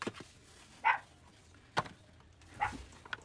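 A Chihuahua gives three short, sharp barks spaced apart, fairly faint against a quiet indoor room.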